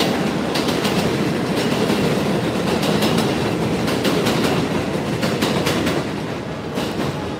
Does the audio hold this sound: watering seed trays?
no